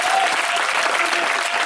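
A crowd claps and cheers together in acclaim, a dense, steady wash of applause that carries on throughout.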